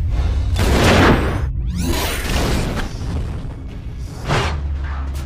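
A loud, booming explosion from a zombie action film scene, where a motorcycle is driven into Licker creatures and shot, with broad rushing whooshes and blasts rolling through the whole span and a fresh burst near the end.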